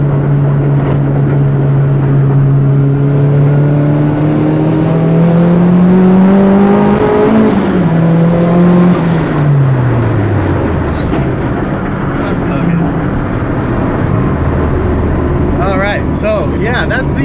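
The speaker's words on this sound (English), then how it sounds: "I don't know how many horsepower 240 SX, but it makes some real rowdy sounds" A Nissan 240SX engine revs hard and loud, the tone climbing steadily, peaking and then dropping away with rough, rowdy exhaust character, close and sustained throughout.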